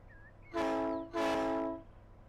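Two long blasts of a train horn in Run 8 Train Simulator, loud and close, each lasting about half a second to a second with a brief gap between, with no talk.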